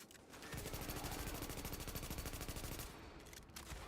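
Rapid automatic gunfire from The Division, a video game, rattles out in a dense, loud burst lasting a few seconds, then breaks off, followed by a couple of scattered shots.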